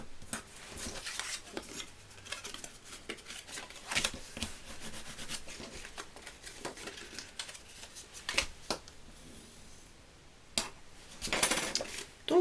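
Paper gift bags folded by hand, with dry crinkling, rubbing and crisp creasing noises in irregular bursts, fairly quiet and close, with no talk.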